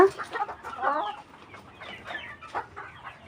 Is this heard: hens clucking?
yes